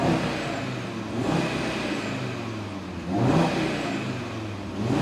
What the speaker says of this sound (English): the iconic oval exhaust fascias there, big, and they make a tremendous sound